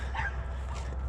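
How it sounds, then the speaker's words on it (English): A single short dog bark, somewhat distant, over a low steady background rumble, during a fox and coyote trapping check. "You're gonna hear my dog Toby in the background."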